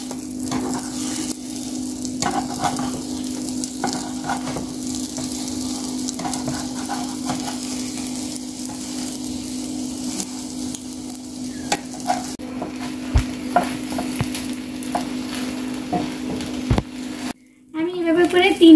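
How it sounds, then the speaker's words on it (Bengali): An egg folded three times fries in a pan, with steady sizzling that runs throughout, occasional stirring or scraping noises, and a louder burst near the end. "আমি এভাবে করে 3টা ভাঁজ দিয়ে ভেজে নিচ্ছি।"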